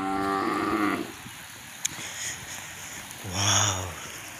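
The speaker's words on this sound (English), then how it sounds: "Some cattle inside." Cattle moo loudly twice at a Maasai village market during heavy rain, one long harmonic call at the start and another near the end, with steady rain noise filling the gaps.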